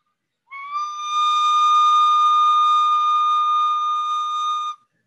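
A single steady recorder note sustained by a slow exhale, clear and pure with a soft onset, holding for about four seconds alone before stopping cleanly.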